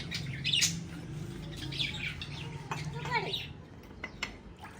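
Parrots squawk noisily around a Pathani village home in the morning, with repeated sharp, bright calls in close, irregular bursts over a low hum and murmur.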